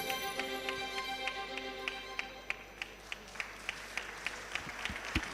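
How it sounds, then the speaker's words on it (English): A startup event audience at the IIT Madras E-Summit claps for the founders, a faint, rhythmic patter of hands over tonal music in a large hall. "A big round of applause for these founders."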